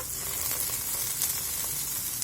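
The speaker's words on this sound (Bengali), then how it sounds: "দেখতে পাচ্ছেন পেঁয়াজটা ভাজা ভাজা হয়ে গেছে। এবার 1 চামচ আদা বাটা," Sliced onion fries in a pan with ginger paste, giving a loud, steady sizzle that hisses continuously with small crackling bursts throughout.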